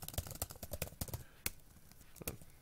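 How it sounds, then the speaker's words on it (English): Quiet computer keyboard typing, a run of crisp, irregular key clicks close by with short pauses between bursts. "start typing away"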